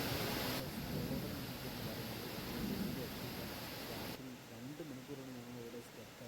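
Heavy rain pours down in a dense, continuous hiss while thunder rumbles low beneath it, and a voice talks over the storm near the end.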